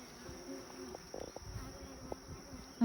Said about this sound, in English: I have a guard bee checking me out.